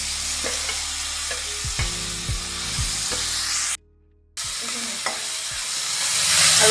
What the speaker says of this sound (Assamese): এতিয়া আদা নহৰু পেষ্টখিনি ইয়াত দি দিম।